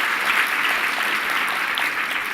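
Conference audience applauding steadily throughout, a dense wash of clapping from a large crowd with no voices standing out.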